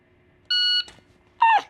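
Two short electronic beeps from a shot timer during a shooting drill: a steady flat tone, then a second slightly longer beep with a falling pitch, both crisp and close against near silence.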